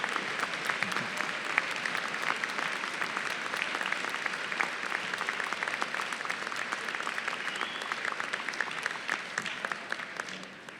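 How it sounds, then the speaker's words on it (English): Families are applauded at a winter undergraduate commencement ceremony, with a sustained, even roar of many hands clapping from a large crowd for about ten seconds that fades slightly at the end. "I want you to applaud your family members who are here today"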